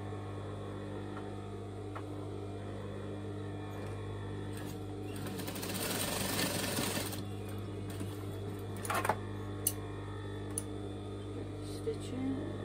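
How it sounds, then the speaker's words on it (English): Sewing machine stitching a top cut from a tee shirt, a short close whirring burst in the middle of a quiet stretch, followed by a few faint clicks. "Stitching cottons, trimmed off, overlocking"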